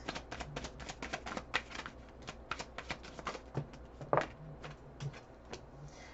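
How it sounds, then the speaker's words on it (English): Playing cards are shuffled over and over by idle hands, a quick papery riffling and snapping repeated in short irregular bursts, soft and close, with no talk. "I just keep shuffling because I'm just idle hands, I guess."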